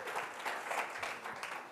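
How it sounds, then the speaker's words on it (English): A room full of people at a climate change panel event gives sustained applause, a steady wash of many hands clapping at a fairly even level from start to finish. "give a round of applause to that inspiring and important panel that we just heard"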